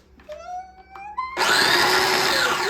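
A small food chopper whirs into action on grapes and blackberries for homemade jam, a loud steady motor roar with rattling fruit after a few brief squeaky pulses, filling the rest of the moment.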